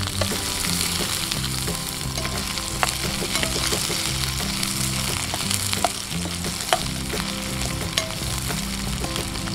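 Garlic and onions frying in oil for a spicy Indonesian sambal, a loud dense continuous sizzle with occasional small crackles and stirring scrapes, close up and without any talking.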